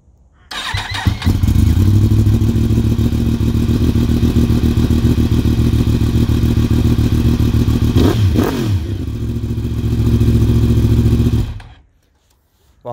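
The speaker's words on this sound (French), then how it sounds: "Je te propose, c'est au moins de la démarrer pour qu'on entende la différence." A 2018 Yamaha R1 with a crossplane inline-four engine starts and runs on a dyno, loud and close, a steady raspy idle with a brief blip of revs before it cuts off.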